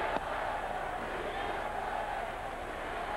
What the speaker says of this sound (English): the chant from the big crowd beat LA